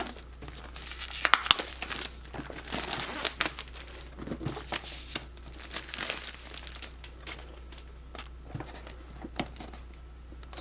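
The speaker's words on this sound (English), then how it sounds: "And take the shrink wrap off." Shrink wrap is peeled and crinkled off a Nest Thermostat Gen 3 box, a busy run of close crackling and tearing bursts that gradually thins out, with no talking.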